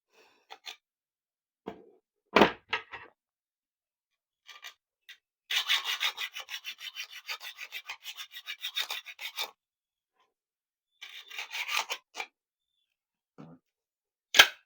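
Tight plastic casing of an MI power bank being cut open by hand, heard as scattered close scraping and rasping strokes, with one sustained burst of rapid sawing-like rubs in the middle and a few sharp clicks, no talk.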